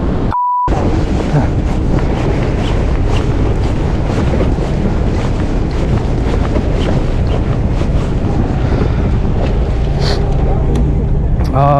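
Strong wind buffets a jigging boat out at sea, a loud, steady roar of gusts and microphone rumble mixed with water and hull noise throughout, with people talking faintly in the background.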